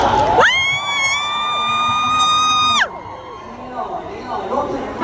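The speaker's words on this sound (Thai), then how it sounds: "ขอเสียงดังๆให้ผู้บริหารเลยได้ไหมครับ" A crowd at a Christmas Eve fan event cheers loudly for the executives, with a long, high-pitched shriek rising over the noise for about two seconds before the din drops back to a lower, scattered hum of voices.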